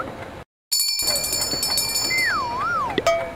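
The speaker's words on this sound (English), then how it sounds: "A bell." A bell rings in a cartoon, clear ringing tones with a few sliding chime notes over light background music, up close and alone without talk.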